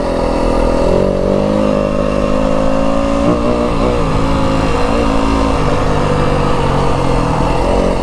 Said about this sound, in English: This bike's not that loud if you're not on it